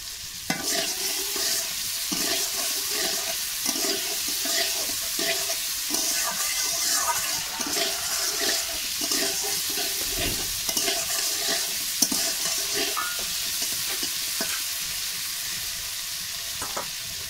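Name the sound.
frying potatoes and teasel gourd in a pan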